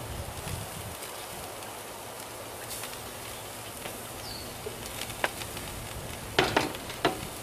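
Burgers and sausages sizzle steadily on a Weber grill outdoors, a soft continuous crackle with a few sharper pops and faint birdsong in the background.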